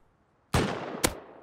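Two sharp gunshots in the video game Rust ring out close and loud about half a second apart, each with a brief decaying tail over a quiet background.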